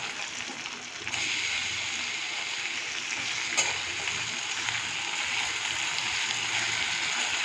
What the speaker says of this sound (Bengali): গ্যাসটাকে কম করে একটু ধৈর্য সহকারে ভাজতে হবে